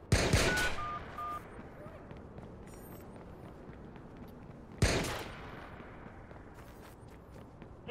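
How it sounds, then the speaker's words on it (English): Gunfire in the Watch Dogs video game: a sharp burst of shots at the start and another loud burst near five seconds, each followed by a decaying rumble over steady background game noise. "Hey, there's gunshots going off."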